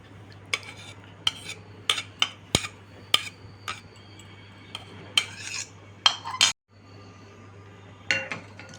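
A spoon stirs milk with chia seeds in a glass, making a series of sharp clinks and taps against the glass at an irregular pace, close and clear.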